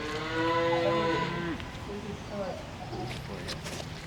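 Highland cattle on a ranch give a drawn-out, nearby moo that slides down in pitch, followed by a shorter second low call, with a person talking over them.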